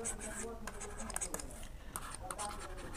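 Pen scratching across paper while a trigonometry problem is written out, in short strokes and pauses at close range, with a soft background hum and no speech.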